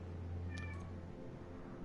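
A cat meows indoors in a short pair of rising calls over a steady low hum, at moderate distance and fairly faint, with no voices.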